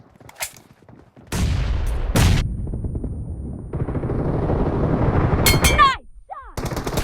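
Heavy automatic gunfire from PUBG Mobile bursts loudly in sustained stretches, with brief single shots before and after, while the game's announcer voice and other short voices come in over it.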